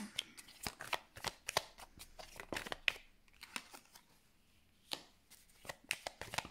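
Tarot cards are shuffled close by in quick bursts of crisp riffling and slapping, with a short pause in the middle and no talk.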